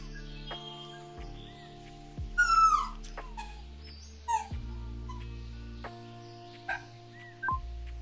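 Dogs whimper and yip in short, high whines and squeaks scattered across the stretch, some near and some fainter, over a quiet background hum.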